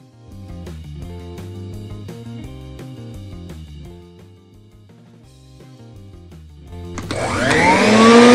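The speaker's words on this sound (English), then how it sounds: "blow the overlay with the hot air of the hairdryer." Over the last second or so a hairdryer blows hot air onto an HMI touch screen overlay during a repair, a loud, sudden whooshing rush with a whine, after a stretch of background music.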